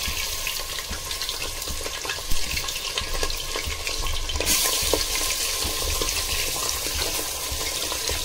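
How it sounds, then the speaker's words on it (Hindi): Mutton pieces frying in desi ghee for a korma, a steady close sizzle and spatter throughout with occasional stirring clinks, no talk. "और इसको हम तब तक इसमें तेल में फ्राई करेंगे जब तक ये मेरा मटन जो है वो कलर नहीं छोड़ देता।"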